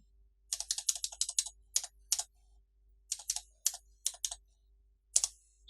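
Typing on a computer keyboard while entering data in Tally Prime accounting software: quick bursts of close key clicks, a run of rapid strokes followed by pauses and a few more short clusters.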